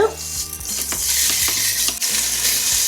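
Beef short ribs sear in a Ninja Foodi with a loud, steady hiss of sizzling fat, broken by a few sharp clicks and taps of meat and utensils against the pot, with no talking.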